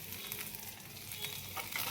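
Tomatoes fry in a pan of masala paste for bendakaya masala pulusu, a quiet, close crackling sizzle with soft stirring sounds and no speech.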